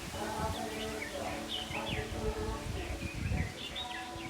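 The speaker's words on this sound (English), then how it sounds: "there's so much wildlife around, so many birds" Birds chirp and tweet repeatedly beside a main road leading into a South Pacific island town lined with tropical trees, the calls scattered over a steady low outdoor rumble and soft rustling.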